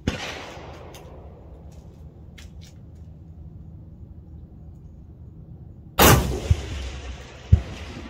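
A rifle shot from a Bergara B-14 HMR firing Federal Gold Medal Match 168-grain rounds outdoors at a distant target: one loud sharp report after quiet ambience, followed by a second impulsive crack.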